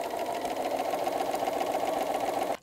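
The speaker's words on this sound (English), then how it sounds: "Now I'm going to be able to sew forward all the way along," Sewing machine stitching forward along a fabric edge for a tool roll, a steady rapid mechanical whir with a fast even needle rhythm, close and moderately quiet, stopping abruptly at the end.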